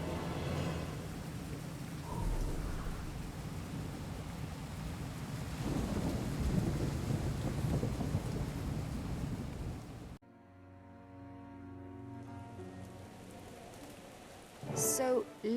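A thunderstorm with lightning strikes in the Guild Wars 2 game: dense rain hiss and low rolling thunder rumble loudly for about ten seconds, then cut to quieter ambience with voices and a sharp crack near the end.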